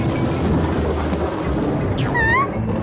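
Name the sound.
thunderstorm on a stormy night, cartoon sound effect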